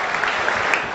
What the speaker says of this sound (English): Give this lady a round of applause.